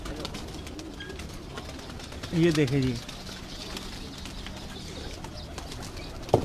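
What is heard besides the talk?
pigeons cooing and flapping on a rooftop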